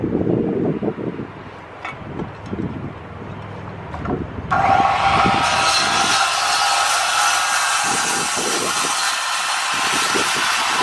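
A power saw starts up abruptly partway through and cuts a wooden piece for a woodshed, producing a loud, steady broadband roar that continues to the end, following a stretch of low outdoor rumble and faint knocks.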